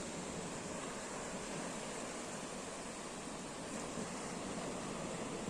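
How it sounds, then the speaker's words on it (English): Steady ocean surf rushes as a continuous, faint wash of breaking waves, with no distinct individual crashes. "those waves, man,"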